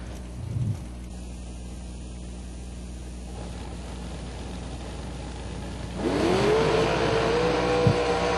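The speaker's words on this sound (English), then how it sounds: "I got Chris Morris doing the burnout here in the final." A drag racing car in a bracket race final does a burnout, its engine droning steadily before a loud rising roar and tire screech swell up near the end, heard from a distance with no voices.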